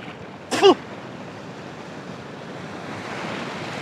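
Steady surf washes onto the long beach at Tajpur on the Bay of Bengal, a soft continuous hiss of breaking waves. A brief sharp sound cuts in near the start, and no one speaks.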